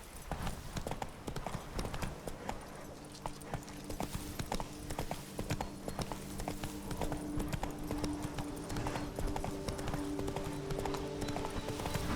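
A horse gallops in The Witcher 3: Blood and Wine, rapid rhythmic hoofbeats pounding continuously over ambient game sound, with faint hints of other sounds in the background.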